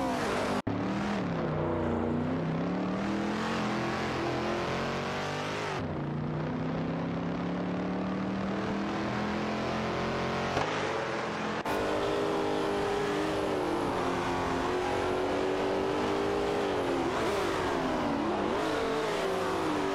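Race cars, a Ferrari 334 and a Porsche 908 Coupe, battle on track, their engines droning loudly and continuously with rising and falling pitch as they rev and shift, filling the whole stretch.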